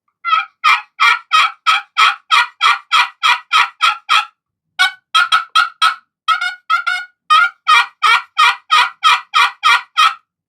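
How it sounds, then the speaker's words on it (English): Turkey friction call worked with a dense solid bloodwood striker, giving raspy yelps in long rhythmic runs of evenly spaced notes, with a short pause and a few tighter clucking bursts midway, loud and close with nothing else behind. "Now, if I go to this bloodwood striker, which is a solid piece, okay, it's very dense, you're going to hear some rasp creep in."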